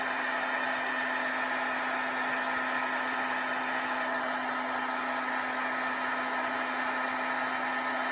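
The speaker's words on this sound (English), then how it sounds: "let me get my heat gun. We're just gonna emboss this." Heat gun blowing hot air to emboss a craft die cut, a steady, close, loud whirring hiss with a constant motor hum, unbroken for the whole stretch with no talking.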